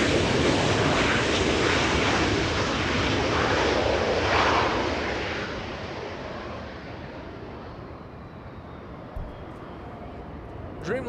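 A United Boeing 787-9 Dreamliner, flight 923 to London, passes at Los Angeles International Airport with a broad jet roar that is loud at first, then fades steadily into a distant rumble.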